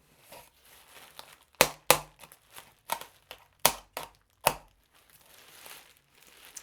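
Guitar shipping packaging is sliced and torn open by hand, with a few loud, sharp crinkling rips and tearing bursts between quieter rustles and handling noises, close by, with no voices.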